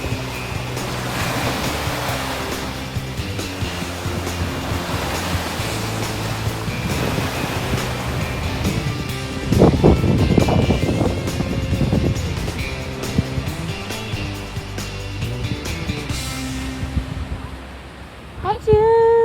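Strong wind buffets and roars by the sea, with surf washing steadily underneath; a gust swells midway, then a brief lull near the end.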